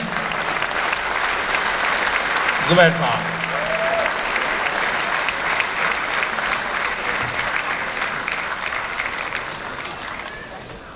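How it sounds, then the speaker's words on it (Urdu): An audience at a mushaira poetry gathering in Dubai breaks into loud, sustained applause to welcome the poet Dr Zubair Farooq, the clapping steady for about ten seconds before tapering, with a voice briefly heard over it. "آپ زیادہ شدت کے ساتھ، زیادہ جوش کے ساتھ آپ انہیں تالیاں بجا کر ان کا سواگت کریں"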